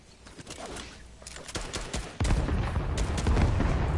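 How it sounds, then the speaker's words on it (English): Gunfire in the video game Fortnite: a scatter of sharp, irregular shots, then a louder, denser burst of firing and noise that carries on to the end. "Who is shooting that shit?"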